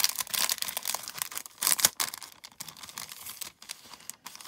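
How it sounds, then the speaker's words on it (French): A plastic packet is opened by hand close up, with uneven bursts of crinkling and rustling, a few sharper crackles, then softer handling. "Hop, j'ouvre le sachet."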